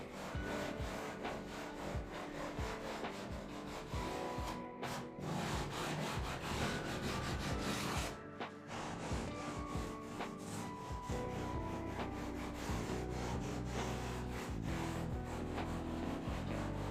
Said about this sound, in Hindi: छोटी-मोटी गलतियों को, जो प्रिंटेड कटर से हुई हैं, सामान्य सैंडपेपर से आसानी से ठीक किया जा सकता है।